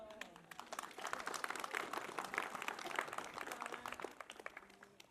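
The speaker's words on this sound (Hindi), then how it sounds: "मैं चाहूंगा कि तालियों से उनका स्वागत तो करें।" Applause from a political gathering audience welcoming a young local councillor: a steady, dense patter of many hands clapping, fairly faint and sustained throughout.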